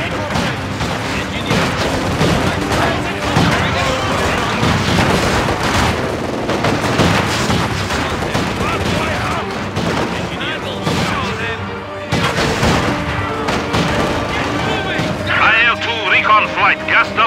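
Dense gunfire and booming artillery from the Company of Heroes 2 winter defense battle rattle on almost without a pause, loud and close, with heavy blasts and short bursts piling on each other.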